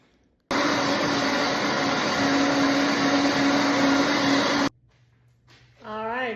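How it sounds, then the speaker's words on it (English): A blender whirs loudly and steadily while mixing a smoothie, starting abruptly and cutting off after about four seconds, followed by a quiet pause and then a voice speaking. "I always blend twice, so I like mine to be nice and blended"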